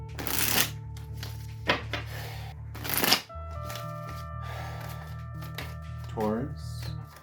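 Oracle cards being shuffled close up in a few bursts of riffling and slapping, with a voice speaking through much of it.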